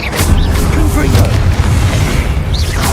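Confringo fire-blast spell going off in the video game Hogwarts Legacy: a loud, dense booming roar with whooshing bursts, sustained throughout and heavy in the low end.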